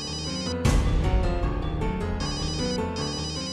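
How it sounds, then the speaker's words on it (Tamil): A telephone ring tone inside a home in a Tamil television drama, a steady repeating electronic ringing pattern that starts abruptly and sounds loud and close, continuing alone with no talk. "யார் ஃபோன் பண்றாங்கக்கா?"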